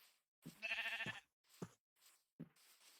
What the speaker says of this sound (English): So let's get this sheep in here.